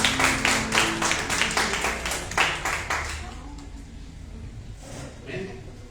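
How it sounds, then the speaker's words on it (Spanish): A church congregation claps in a quick, rhythmic unison beat for about three seconds, close and fairly loud, then trails off into faint room sound and scattered voices. "Dale un aplauso al Señor"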